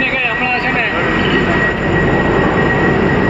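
A train pulls away with a loud, steady rumble and roar of wheels and engine that continues without letup.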